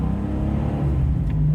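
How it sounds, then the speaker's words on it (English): An air-cooled flat-six in a Porsche 993 911 with a quick flywheel drones steadily under load, a loud, close rumble with a faint whir on top. "It's a 6-cylinder, air-cooled in this case, and man, they just all have the same beautiful noise."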